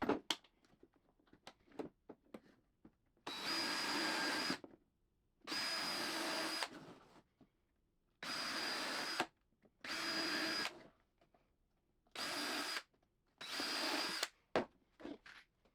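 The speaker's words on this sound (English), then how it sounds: "I use a countersink drill bit which helps avoid cracking" Power drill with a countersink bit boring into 2x4 wood for an outdoor table, six loud bursts of whirring a second or two each, separated by short quiet gaps with small clicks and handling knocks.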